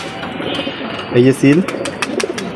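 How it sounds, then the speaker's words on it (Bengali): A couple of short, low coos from a female pigeon sound close by over a steady background murmur, with faint voices and light handling noises around them. "এই যে একটা মাদি কবুতর"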